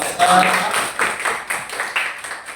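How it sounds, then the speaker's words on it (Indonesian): Applause for a group of students in a nursing class, a short burst of clapping from a room of people that rises quickly and then continues in uneven waves under faint voices. "Oke, tepuk tangan untuk kelompok."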